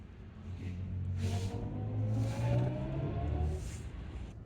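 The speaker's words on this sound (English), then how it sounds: "This car makes a noise that a Hollywood composer created." A BMW i7 xDrive60 in sport mode plays its composer-designed synthetic drive sound, a smooth rising electronic hum with swelling tones that builds and eases in waves, heard alone with no talk.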